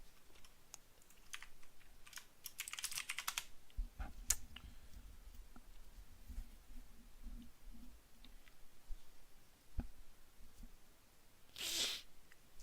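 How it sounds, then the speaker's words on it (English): Quick bursts of close clicking keystrokes on a computer keyboard at a day-trading desk, then lighter scattered taps and low background hum. "Here, let me type it for you guys."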